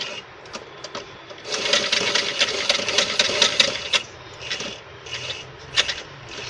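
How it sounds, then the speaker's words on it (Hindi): Sewing machine stitching around the neckline of a suit, a close mechanical whir in a burst of a few seconds followed by shorter stop-start runs and light clicks. "अब हम सिलाई मशीन पर जाएंगे और बिल्कुल यहाँ पे स्टिच करेंगे"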